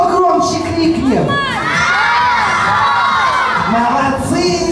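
A loud crowd of children at a New Year party for kids shouts and cheers together in a sustained, boisterous roar with rising whoops, close and continuous throughout.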